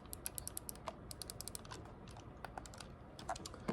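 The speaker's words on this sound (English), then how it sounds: "They have tactile buttons, like clicky buttons as well." Clicky tactile buttons on a Flydigi Vader 4 Pro gamepad tap out rapid, crisp clicks in irregular clusters, close up and fairly quiet against a low background hiss.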